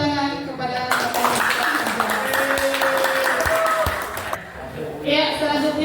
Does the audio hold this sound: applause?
yes